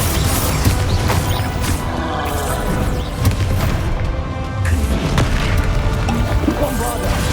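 Spell explosions from Bombarda and Confringo in the video game Hogwarts Legacy boom and crash in quick succession over a constant rumbling combat backdrop, loud and dense throughout.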